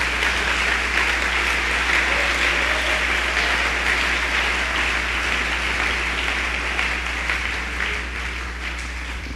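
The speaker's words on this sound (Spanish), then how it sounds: "Dele aplauso a Dios esta noche." Church congregation applauding God during an evening service, a steady roar of many clapping hands over a constant low hum, holding loud and even throughout.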